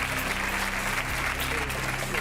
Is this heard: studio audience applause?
yes